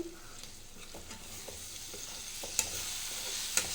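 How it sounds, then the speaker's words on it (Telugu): Prawn curry is stirred in a pan with a steady run of soft scraping strokes and low sizzling, broken by two brighter clinks of the spoon against the vessel. "ఇప్పుడు బాగా కలుపుకోవాలి"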